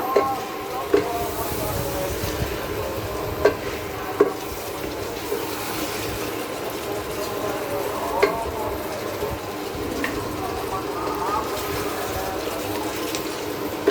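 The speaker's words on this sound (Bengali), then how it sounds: "সুন্দর করে নাড়িয়ে এটাকে মশলার সাথে মিশিয়ে নেব।" Spicy goat head meat (khashir matha) is stirred with spices in a pan, making a low continuous sizzle punctuated by occasional sharp scrapes and clinks of the spoon, close by, with faint voice in the background.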